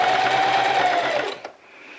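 Sewing machine running steadily while stitching a bias bound seam finish, a close, loud mechanical whir for over a second that stops with a small click, leaving quiet room tone.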